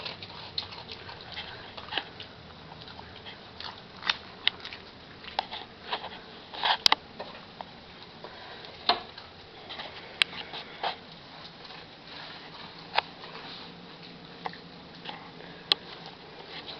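An Afghan hound eating spilled cereal nearby: irregular crunchy bites, clicks and sniffs scattered across the stretch at moderate loudness, with no talk over them.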